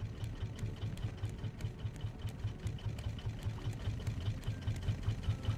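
A boat motor in the survival game Raft runs steadily with a fast, even, chugging pulse and no talk over it.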